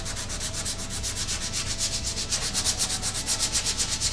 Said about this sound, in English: I'm going to get started sanding with the contour